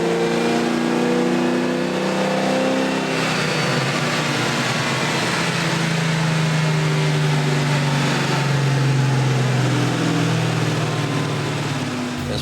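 A supercharged pro-touring 1969 Camaro engine revs hard on a dyno, a loud, sustained roar that climbs in pitch and holds near full throttle for several seconds, with no talking over it.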